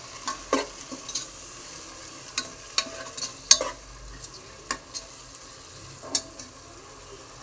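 Ginger-garlic paste fries with onion and tomato in a pan for egg biryani: a soft, constant sizzle punctuated by sporadic sharp clicks and scrapes of stirring.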